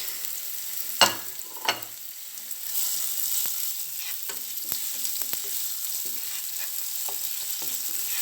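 Garlic paste fries in a pan for capsicum noodles, giving a steady soft sizzle with a couple of sharp clatters near the start and light stirring scrapes throughout, close and quiet, with no talk.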